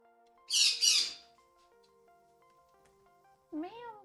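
A pet bird named Matic squawks twice in quick harsh bursts, then gives a wavering cry a few seconds later. A faint steady hum runs underneath.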